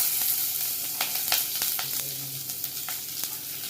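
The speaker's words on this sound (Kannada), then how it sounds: "ಚೆನ್ನಾಗಿ ಹೀಗೆ ಫ್ರೈ ಮಾಡ್ಕೋಬೇಕು. ನೋಡಿ, ಹೀಗೆ ಈರುಳ್ಳಿ ಮತ್ತೆ ಬೆಳ್ಳುಳ್ಳಿನ ಕೆಂಪುಗಾಗೋವರೆಗೂ ಫ್ರೈ ಮಾಡ್ಕೋಬೇಕು" Onions sizzle and crackle in hot oil in a pan while cooking a mutton gravy. A steady frying hiss runs throughout, broken by sharp spatters and stirring clicks, close and fairly loud, with no talking.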